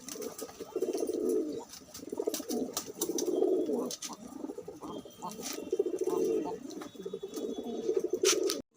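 Trichy-line pigeons coo in repeated low, throaty rolls, close by and fairly loud, one call after another with brief pauses.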